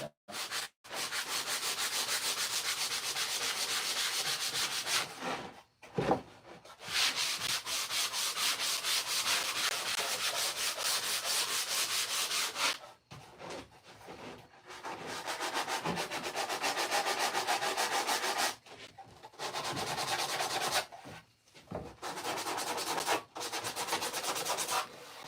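Folded sandpaper rubbed by hand over a wooden handle, a steady scratchy back-and-forth rasp in long close bursts separated by a few short pauses.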